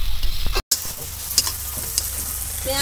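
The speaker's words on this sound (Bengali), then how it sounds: "এবার পেঁয়াজটাকে ভাজবো।" Chopped onion with a little salt fries in a pan, a steady sizzle close by with brief stirring scrapes and a short dropout near the start.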